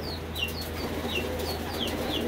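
Game fowl chickens give soft, repeated clucking calls, several short notes spaced through the clip over a steady low background hum, moderately close with no talk.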